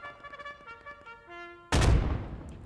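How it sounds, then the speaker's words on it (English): An anti-tank grenade blast in Squad 44, set on Utah Beach on D-Day: one sudden, loud, broadband explosion whose rumbling tail rolls on and fades slowly, preceded by quieter tonal game music and battle noise. "Throwing an anti-tank grenade now."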